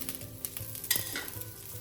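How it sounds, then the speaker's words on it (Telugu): Oil sizzles quietly around the first dosa in a pan. The frying is faint and close, with a soft utensil tap near the middle and no talking. "ఆయిల్ అయినా 1 స్పూన్ వేసుకో, ఫస్ట్ దోశ కదా, ఆయిల్ కొంచెం పడుతుంది."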